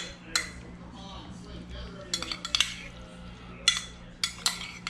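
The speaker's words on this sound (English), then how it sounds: "So we're going to mix that up." Raw nenue fish poke being mixed with sesame oil in a bowl, with repeated clinks and scrapes of a utensil against the dish in irregular bursts, close and moderately loud over a low background hum.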